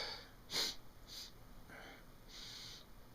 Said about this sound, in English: let me give it one more sniff.